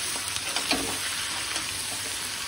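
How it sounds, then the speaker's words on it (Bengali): Boiled young jackfruit fries in a wok with a steady, close crackling sizzle and faint stirring scrapes throughout, no voices. "এখানে কড়াই এঁচোড়টা আমি সিদ্ধ করে দিয়েছি, আর এটা ভালো করে সুন্দর করে একটু ভেজে নেব"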